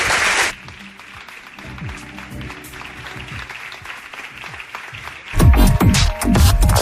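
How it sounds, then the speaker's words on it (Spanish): A studio audience applauds a guest, clapping starting faintly and building into a louder, dense burst of many hands near the end. "Os pido un aplauso para él"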